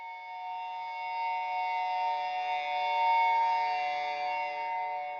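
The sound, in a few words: guitar feedback tones from amp simulators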